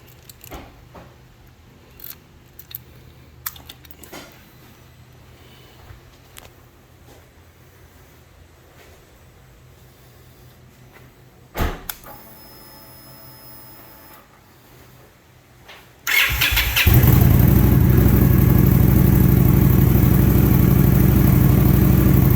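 An Indian Scout Bobber motorcycle sits quiet through some clicks and handling noises, then the engine fires and settles into a loud, continuous running roar for the last several seconds.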